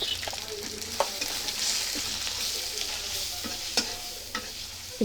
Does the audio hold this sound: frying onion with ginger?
yes